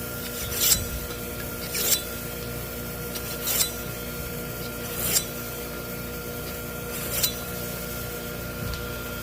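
Kitchen knives of different steels are drawn across a sharpening stone in steady, evenly spaced rasping strokes about every second and a half, close up over a constant background hum.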